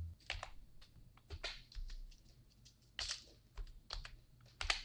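Computer keyboard typing in Photoshop while entering banner text, a near run of quick, irregular key taps with a few louder strikes and no talk.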